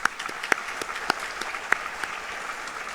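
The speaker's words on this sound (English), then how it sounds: "Let's give them all a round of applause." Guests at the Phoenix Police annual awards ceremony applaud sponsors, a sustained crowd clapping with a few sharp, nearby individual claps standing out above the steady patter.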